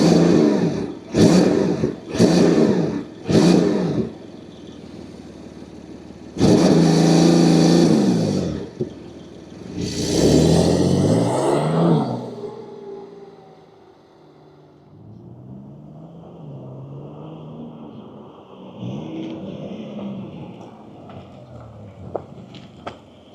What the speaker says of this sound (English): let's fire up this GTS and hear what it sounds like